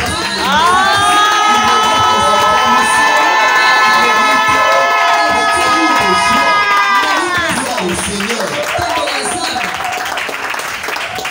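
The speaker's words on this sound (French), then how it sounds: "Offrons à Dieu des acclamations" A church congregation cheers and acclaims God in a loud, sustained roar of voices, with high drawn-out shouts rising above it, scattered clapping underneath, and the crowd noise easing off near the end.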